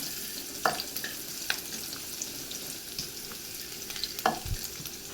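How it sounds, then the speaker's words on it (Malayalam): Chopped garlic frying with cumin in hot oil for a Lasooni Methi dish, giving a steady soft sizzle with a few louder stir scrapes and clinks near the start and end, no voices. "അതിലേക്ക് നമുക്ക് ചെറുതായി അരിഞ്ഞു വെച്ചിട്ടുള്ള ഈ വെളുത്തുള്ളി ചേർത്ത് കൊടുക്കാം."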